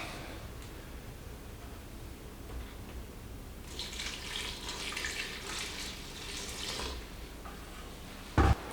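Water pours into a bucket for mixing grout, a soft splashing rush for a few seconds under low background noise, ending with a short knock.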